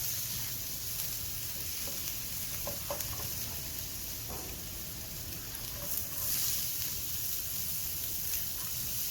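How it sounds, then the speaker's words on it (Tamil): Finely chopped ginger and garlic sautéing in hot oil for a mutton cutlet, a soft continuous sizzle with a few light spatula taps against the pan. "எண்ணெய் காஞ்சதும் நம்ம சின்ன சின்னதாக கட் பண்ணி வச்சுருக்கிற இஞ்சி பூண்டை ஆட் பண்ணிக்கோங்க. அதை ஒரு ஃபியூ செகண்ட்ஸ் வதக்குங்க."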